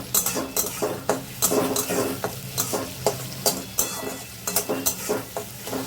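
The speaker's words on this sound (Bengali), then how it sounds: "এই সময় আমি ক্যাপসিকামগুলো দিয়ে দিলাম।" Capsicum goes into a sizzling pan of frying chicken curry with a little tomato and gets stirred, a spoon scraping the pan in a repeated rhythm over a constant frying hiss.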